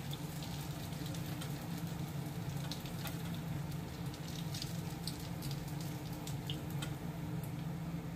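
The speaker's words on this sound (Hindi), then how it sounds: "फिर फ्राई कर लेंगे इसी तरीके से" Soy chaap fries in a pan with an even, continuous sizzle and crackle, faint pops scattered throughout, steady and close with no voices.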